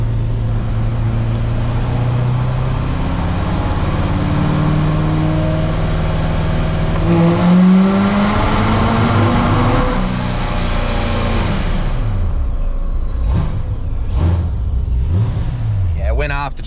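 A C7 Corvette on a dyno during a tuning pull roars loud and close as the engine revs up through a sweeping rise, then cuts off into short blips and bursts as it winds down.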